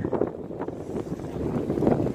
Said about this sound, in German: Der Wind ist so stark.